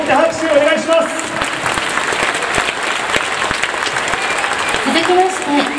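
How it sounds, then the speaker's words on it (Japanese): Steady, full applause from a packed baseball stadium crowd during a post-game hero interview, dense continuous clapping with a voice faintly over it near the start and end. "今日のヒーロー3選手に大きな拍手をお願いします。"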